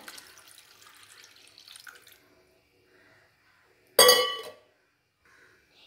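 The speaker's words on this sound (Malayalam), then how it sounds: "ഈ തേങ്ങാപ്പാലും കൂടി ഇതിലേക്ക് ഒഴിച്ചു കൊടുക്കുക." Coconut milk pours into a watermelon juice mixture in a home kitchen. After quiet handling noises, a single short, splashy pour is heard close by.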